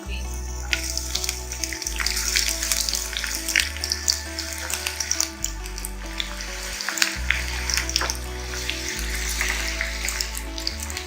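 Onions frying in hot oil in a home kitchen pan while making matar ghughni, a steady crackling sizzle with sharp pops. A low hum runs underneath throughout.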